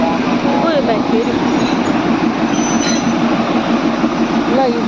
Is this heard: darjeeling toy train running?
yes